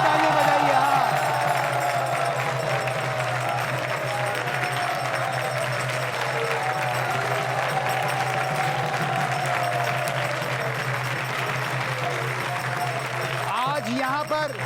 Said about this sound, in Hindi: उनके सम्मान में श्रद्धा पूर्वक जोरदार ताली बजाइए